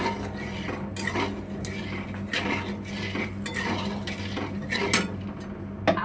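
A mango bowl is washed in a kitchen, with repeated clinks and knocks of dishes and utensils over running background noise and no talk.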